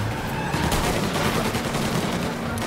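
In Mafia Definitive Edition, gunfire aimed at police crackles in dense, overlapping bursts over a constant loud engine and road rumble, suggesting a car chase shootout.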